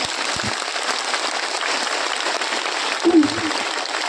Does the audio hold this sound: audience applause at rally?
yes